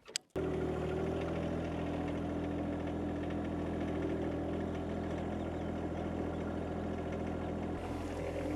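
A John Deere 2025R compact tractor engine idles steadily and close by, a constant low rumble after a brief start, with a slight shift near the end.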